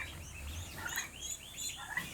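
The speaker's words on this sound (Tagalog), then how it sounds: "Ito yung mga pabo natin." Broad Breasted White turkeys call in a quick series of warbling, bubbling gobbles, several birds overlapping at moderate distance with no talking.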